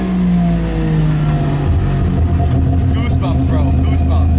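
A naturally aspirated three-rotor 20B engine in a Mazda RX-7 revs loudly and steadily, its tone rising through the middle of the clip, while voices talk underneath.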